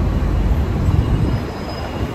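A train running at an MRT station in the Philippines, a loud steady rumble of rail cars with wheel squeal and a thin high whine throughout, close and continuous, no voices.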